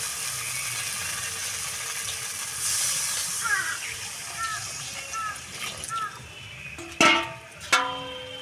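Water poured into a hot pan of pangas fish masala sets off a loud hiss and sizzle that crackles on, with a couple of sharp metallic clatters near the end.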